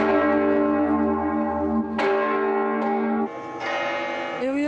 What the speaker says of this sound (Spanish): He oído las campanas y me extrañaba.